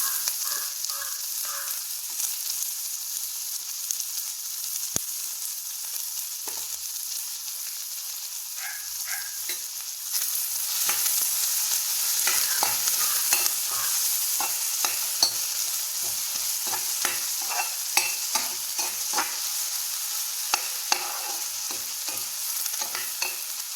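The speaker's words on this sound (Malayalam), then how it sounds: "ഇതൊന്ന് വഴറ്റിയെടുക്കാം" Onion, potato, green chili and curry leaves sizzle and fry steadily in a hot pan, with frequent scraping and stirring clicks across the whole stretch, louder and busier in the second half.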